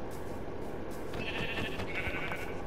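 A Minecraft sheep gives one faint, short bleat over a soft, steady background hum.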